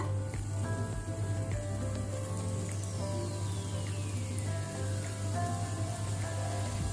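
Onions sizzle and crackle steadily as they fry in oil in a pan, with faint scattered pops and a high whine sweeping down in the background.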